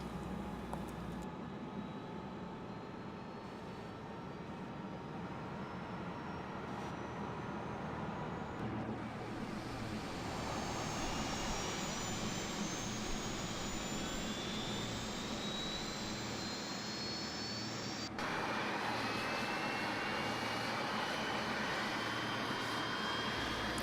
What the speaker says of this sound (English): let's go ahead and do the engine start real quick